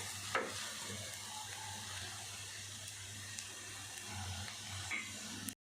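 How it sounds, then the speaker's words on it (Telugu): Ivy gourd (dondakaya) pieces fry in oil over a medium flame, giving a soft, steady low sizzle with a brief stir or scrape near the start, faint and uninterrupted by speech. "ఫ్రై అయిపోతుందండి."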